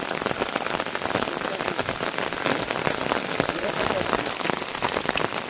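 The first monsoon rain of the season pours down in Konkan, a dense, continuous patter of drops striking surfaces, loud and close for several seconds, with no clear talking.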